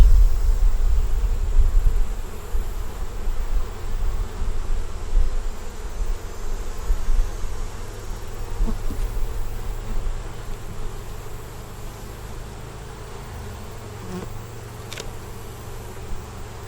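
Honeybees at an open hive being inspected, a close, continuous low buzzing hum with some fluttering variation, gradually easing slightly in loudness, with no speech.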